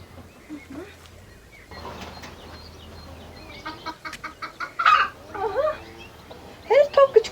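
Chickens cluck in short bursts that grow louder toward the end, close by, over a low hum, with someone speaking in between.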